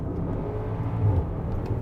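Bentley Bentayga V8, 2023, accelerating from low revs in gear; a steady, deep engine rumble heard from inside the cabin, moderately loud and continuous with no talk.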